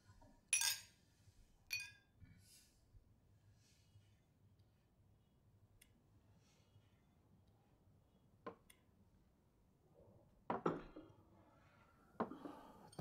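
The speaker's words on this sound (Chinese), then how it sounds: "来，为全家的平安干杯。" Drinking glasses clink together during a family toast at a dinner table in a quiet room: a few sharp, bright clinks come early, then a cluster of clinks near the end. No voices are heard.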